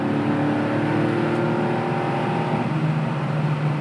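A classic Porsche 911 hot rod, a 1972 911 T with twin centre-exit tailpipes, holds a loud, steady engine drone with harmonic tones rising in pitch, close and heard alone.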